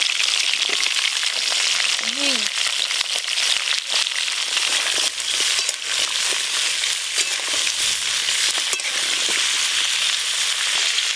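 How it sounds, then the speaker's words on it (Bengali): Cauliflower and carrot fry in oil, giving a loud, dense, continuous sizzle that stays steady throughout, with a faint brief voice underneath. "এবার বাকি সবজিগুলোও লাল লাল করে ভেজে নেব ফুলকপি"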